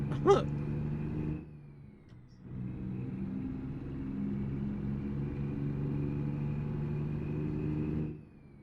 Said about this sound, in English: As the car just flies on by.